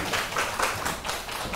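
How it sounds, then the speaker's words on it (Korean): Audience at a marine life lecture clapping, a short burst of scattered claps with uneven rhythm, fairly close and without speech. "큰 박수 부탁드립니다."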